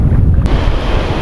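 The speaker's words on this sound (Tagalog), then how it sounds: "Dito tayo guys sa malalaking alon." Big ocean waves: a loud, continuous roar of surf mixed with wind buffeting the microphone, with a brief sharp crash partway through.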